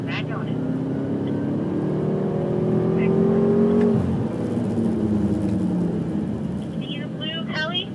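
BMW M5 on a driving school track accelerating hard, with a loud, steady engine roar that rises in pitch and holds close throughout, while an instructor talks over it.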